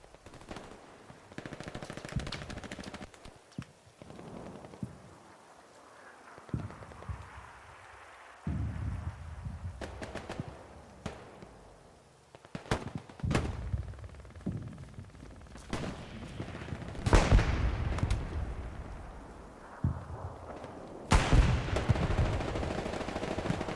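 Gunfire rattles through a Hell Let Loose match on Mortain Hill, bursts of machine-gun and rifle shots at varying distances, some distant and muffled, others louder and closer, building toward the end.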